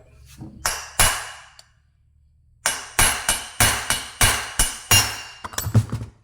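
Hammer blows drive a punch to free the flywheel of a chainsaw engine: a couple of loud metallic strikes, a pause, then a steady series of about eight close, ringing hits ending in quicker taps.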